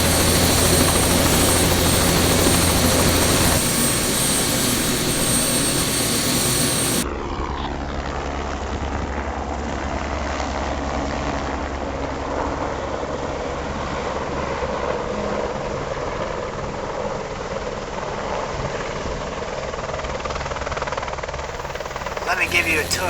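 A helicopter or similar aircraft drones steadily and loudly throughout, its engine and rotor noise dominating, with a change in tone partway through as it continues in flight; voices can be heard beneath it.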